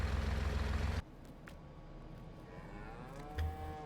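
Cows moo inside the Farming Simulator 19 game, a long low drawn-out call with steady harmonic tone, followed by quieter ambient farm sounds and a second brief moo near the end.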